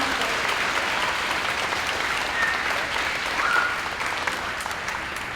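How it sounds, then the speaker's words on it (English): A crowd at a fifth grade moving up ceremony breaks into sustained, even applause, loud and close, holding steady for several seconds with only slight swells. "Round of applause, nice job."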